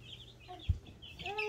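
Young Easter egger chicks cheep and cluck softly in a quiet indoor space, with high peeping calls throughout and a brief dull bump partway.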